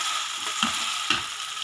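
Chicken pieces frying in a pan for a paratha roll filling, a constant loud sizzle with two distinct stirring knocks of a utensil against the pan.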